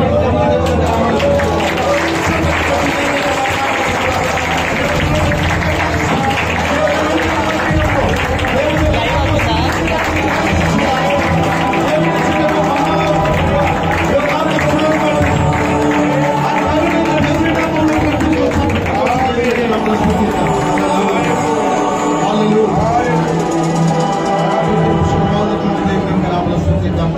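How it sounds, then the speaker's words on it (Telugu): A church congregation at a dedication service claps loudly and continuously in unison, a dense, steady wall of hand claps mixed with crowd noise and voices. "కుడి చేతికి పైకి ఎత్తి బిగ్గరగా దేవుని యొక్క నామములో చప్పట్లు కొట్టి"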